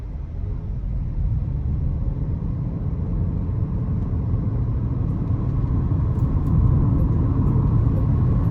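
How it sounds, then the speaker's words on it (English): Omoda C7 SHS hybrid car pulling away from a standstill, a steady loud engine and road rumble that swells slightly as it gathers speed, no voices. "This is quick off the line and it'll actually spin its front wheels on takeoff"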